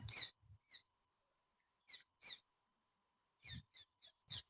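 Several short harsh bird calls at sunset over a village wheat farm ring out in scattered bursts, some paired, against an otherwise quiet background with a faint steady hum.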